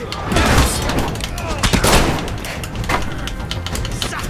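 Gunfire in the video game Hand of Fate 2 comes as loud, dense bursts of shots and booms, close and harsh, layered over ongoing combat noise and a voice talking.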